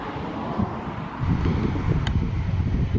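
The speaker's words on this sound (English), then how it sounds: "It's pretty windy" Outdoor wind gusting across the microphone beside a trail, a soft steady rush that grows louder and rumbling partway through, with a brief faint chirp.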